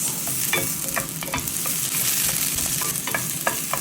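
Onions sizzle steadily in hot oil in a pan, a loud, continuous frying hiss with occasional stirring scrapes and pops, no voices.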